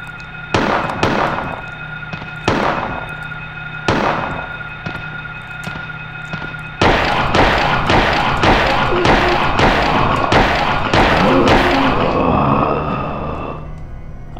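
Gunfire in Silent Hill 1 aimed at a hospital doctor enemy: a few spaced loud shots, then a rapid volley of sharp, echoing blasts close up.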